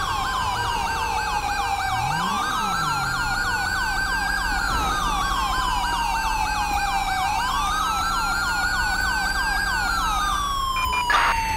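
An ambulance siren in Grand Theft Auto V wails continuously, sweeping up and down in long rising and falling cycles, loud and steady throughout with a faint vehicle rumble beneath.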